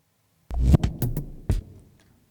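Noise from the Airwindows Voice of the Starship plugin in a song mix: a few irregular thumping, throbbing bursts with low rumble and hissy tops, moderately loud, trailing off into quiet.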